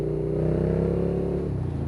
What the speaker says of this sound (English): That V-twin sound, oh my god, it's amazing.